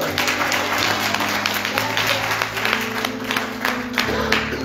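A Baptist church congregation claps and cheers at a Men's Day service, a dense, sustained wash of applause over sustained organ and keyboard chords, with a voice briefly heard.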